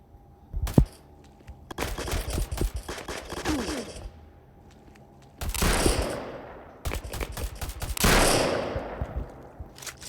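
Gunfire in the video game rec.o.r.d: rapid bursts of automatic fire in several long volleys, sharp and loud, separated by short quiet gaps, with a single crack near the start.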